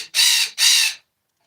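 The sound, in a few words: bird calling loudly outdoors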